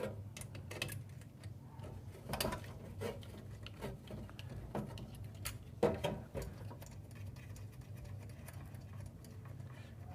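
Small sharp clicks and ticks as a 4mm hex key loosens the screws holding the brew group of a Gaggia espresso machine, close up, in irregular bursts with a louder knock partway through and no talking.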